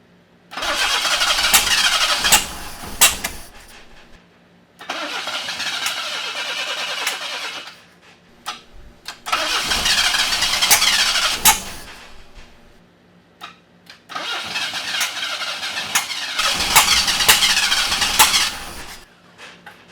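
A 1979 Chevy LUV engine cranks and catches in four separate bursts, each a few seconds of loud, close starter whirring and rough firing with sharp ticks, separated by short pauses, no talk.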